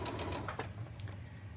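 A sewing machine stitches steadily across the bottom of a fabric drawstring bag, its rapid mechanical whir running continuously at close range with no voices.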